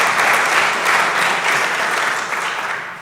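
Applause from the audience at a concert fundraiser commemorating Kristallnacht in a Chicago synagogue: a full, steady roar of many hands clapping that holds evenly and tapers slightly at the end.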